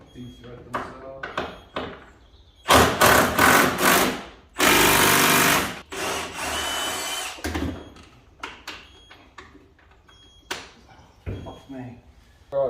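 A power tool such as an impact gun fires in loud bursts, including one long sustained blast, while removing wheel bearing bolts on an MK5 Golf, mixed with metallic clanks and people talking in a workshop.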